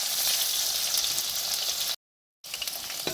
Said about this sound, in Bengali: তো এই যে আলুগুলো আমি লাল লাল করে ভেজে নেব।